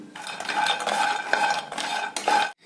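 Cardamom pods stirred and scraped around a hot tawa while dry-roasting, with steady metallic scraping in close, continuous strokes and a brief pause near the end; no talking.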